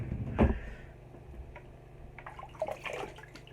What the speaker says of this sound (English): Wash my face off first.